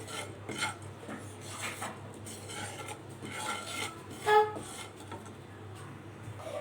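Homemade spices for mango pickle stirred as they roast in a pan, a quiet scraping and rustling with a few metallic clinks, steady under a low background hum.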